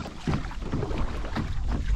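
Kayak paddling on a park waterway in Smithfield, Virginia, with rhythmic low splashing strokes roughly every half second under steady wind buffeting the microphone, close and moderately loud.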